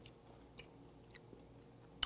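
Raw damselfish sashimi, bones and all, is chewed close up, giving soft wet mastication with a few faint crunchy bites and a sharper crunch at the end, quiet and without talk.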